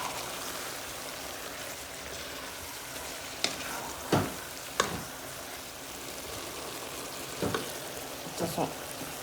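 Beef stew sizzles steadily in a pot as it is stirred, a continuous frying hiss with a few sharper clinks and scrapes of the spoon against the pot.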